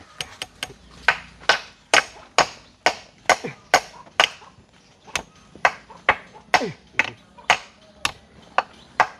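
Someone hammers nails into wood while building a kitchen extension, striking about twenty sharp, close, ringing blows at an uneven, steady pace.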